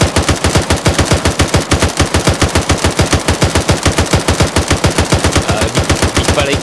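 Automatic gunfire in ArmA 3 aimed at a pickup truck: a long, loud, rapid string of evenly spaced shots, close and continuous, with no talk.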